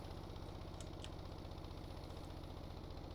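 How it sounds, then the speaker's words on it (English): A modular engine built in the video game Stormworks idles with a steady, even low drone and a faint rhythmic pulse, constant and quiet throughout with no talk over it. "I've set an idle, and it's slowly slowing the engine back down"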